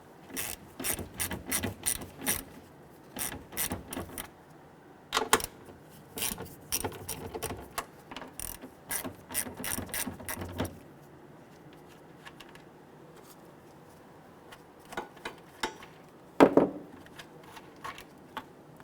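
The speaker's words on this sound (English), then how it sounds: "Now I'm just going to use my 1/4-inch ratchet with that 8mm socket. Loosen and remove these nuts." Quarter-inch ratchet turning an 8mm socket on a 2011-2023 Dodge Charger's tail light nuts, a run of fast clicking pawl bursts, close and distinct, pausing, then a few more clicks near the end.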